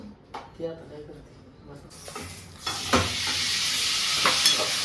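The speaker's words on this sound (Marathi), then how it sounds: "ह्या कढईमध्ये कर फ्राय मसालाच तर फ्राय करायचा आहे ना" Speech with harmonic bands opens, then a loud, steady sizzle of masala frying in a wok rises and continues to the end, with occasional stirring scrapes.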